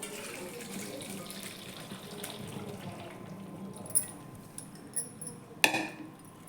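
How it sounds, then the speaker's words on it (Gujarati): Cooked rice being drained through a perforated bowl into a vessel below, a steady watery splashing and trickle with a few metallic clinks of the utensils near the end. "ભાતને આપણે ઓસાવી લઈશું"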